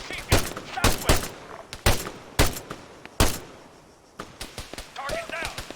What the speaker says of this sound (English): Fire at that soldier!